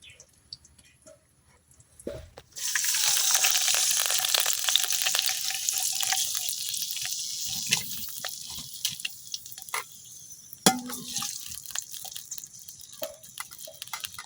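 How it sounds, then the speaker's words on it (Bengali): A little water goes into a hot wok of lightly fried onion and garlic. A sharp hiss surges up and settles into a steady sizzle with drips and a clatter partway through, fairly quiet overall. "এখন আমি অল্প একটু পানি দিয়ে দিতেছি"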